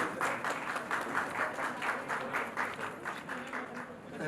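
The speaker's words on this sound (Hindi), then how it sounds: "मैं चाहता हूं कि एक बार भरपूर तालियों से अभिनंदन करें आप सभी।" Sustained applause from an audience welcoming the chief minister at a women's awards ceremony in Lucknow, steady dense clapping filling the hall throughout.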